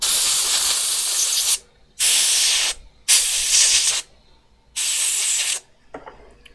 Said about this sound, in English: Then I'm going to use compressed air